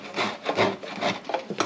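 A block of raw milk Parmigiano Reggiano cheese is rubbed against a hand grater in quick, rasping strokes, about five of them, close and loud with no talking.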